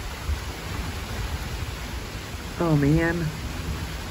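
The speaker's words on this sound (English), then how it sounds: "And it started raining." Rain falling steadily outdoors in a garden setting, a continuous broad hiss with a brief voice speaking near the end; no distinct thunder crack stands out.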